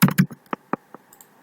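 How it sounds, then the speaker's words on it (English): Keys on a computer keyboard being typed at a login screen, a quick double burst of close, sharp clicks followed by a few sparse single taps, with no talking. "typing the user ID and password."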